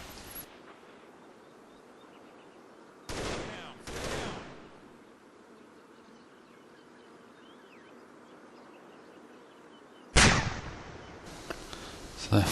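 Bursts of machine gun fire in the Combat Mission video game, set in the Market Garden campaign: a short double burst early, then a louder sustained burst near the end, over a quiet hissing battlefield ambience.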